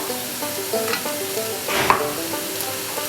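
Potatoes fry in a wok with a steady sizzle, while a utensil scrapes and stirs through them in short repeated strokes, close and moderately loud with no talk.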